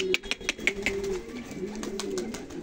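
Hungry, thirsty pigeons coo in low, rounded calls close by, with a few soft flutters and knocks at the start.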